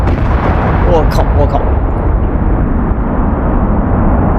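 Red explosives detonating across a plain in Astroneer, a loud, sustained roaring rumble of many blasts merging into one heavy wall of sound, with a voice briefly speaking near the start.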